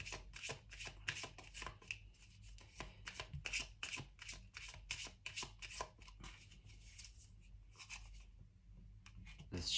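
Tarot cards are shuffled and drawn in a rapid series of close, crisp riffling flicks and slaps, with brief pauses between bursts in an otherwise quiet room.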